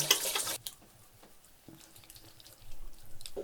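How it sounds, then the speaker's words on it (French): Tap water running into a sink while a face is rinsed after exfoliating: a loud gush at the start, then quieter splashes and drips, with a renewed rush of water near the end, close by and without talking. "Et maintenant on rince."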